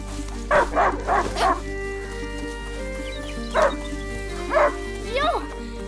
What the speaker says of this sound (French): Un chien de chasse!